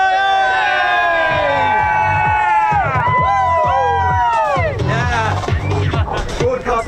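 Outdoor crowd at an Armed Forces Day event on the Cleethorpes seafront, cheering, whooping and screaming loudly, with children's shrill shouts rising and falling in waves over several seconds.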